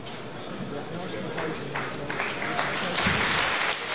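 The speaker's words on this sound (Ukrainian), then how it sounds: "піднімається і оплески" Arena crowd applauding at a boxing match between Ukrainian Atamans and British Lionhearts, a broad distant wash of clapping and crowd noise under a commentator's voice, swelling toward the end.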